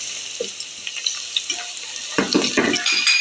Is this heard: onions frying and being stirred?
yes